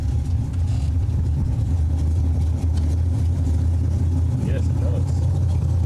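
Drag racing cars, including a Camaro and a dragster, rumble with steady low engine noise throughout at an old-school bracket race, while an announcer talks over it.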